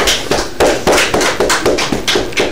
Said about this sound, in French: Applaudissez pour les s'il vous plaît.